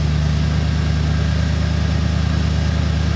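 1990 Ford F150 engine idling roughly after a restart with the battery unhooked, a steady close low rumble with a pulsing, slightly uneven beat and no talk.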